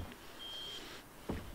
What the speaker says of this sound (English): The raid alarm